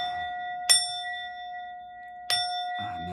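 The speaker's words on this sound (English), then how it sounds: "All right, I'm going to do my little bells." Small hand bells are struck twice, a couple of seconds apart; each strike leaves a clear, sustained ringing tone, and a brief rustle follows near the end.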